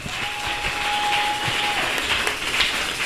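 Church congregation at a Sunday service applauding a child being called forward, a steady wash of clapping that fills the room, with a held tone and scattered voices mixed in.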